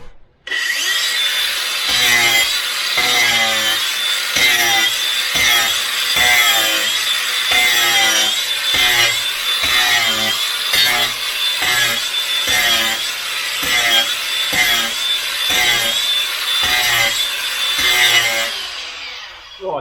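Wooden door planks being roughened for adhesive by hand, a steady back-and-forth rasping and scraping stroke repeated rhythmically and loud up close, continuing for about twenty seconds with no talking.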